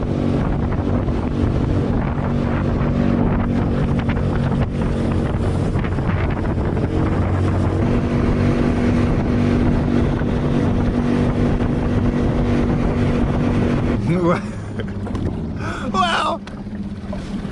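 A low-horsepower homemade skiff planes across the water, its small outboard droning loudly and steadily under heavy wind buffeting, then the engine note drops and fades near the end.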